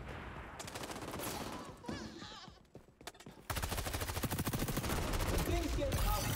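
Gunfire with flaming bullets in a video game, dense rapid automatic shots in sustained bursts that break off briefly in the middle and then resume louder, with game sounds mixed in.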